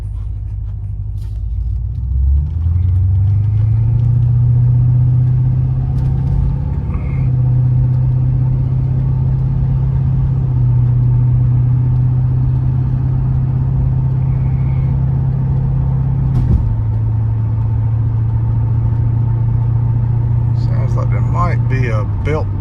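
A 1980 Porsche 928 driving on the road, its engine a loud steady low rumble that rises in pitch as it accelerates and holds through the drive, with wind and road noise throughout.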